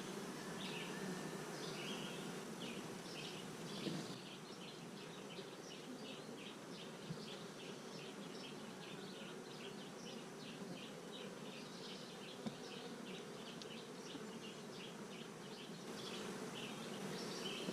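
Honeybees buzz steadily during a July beehive inspection, a dense, continuous drone of many insects close by with no talk over it.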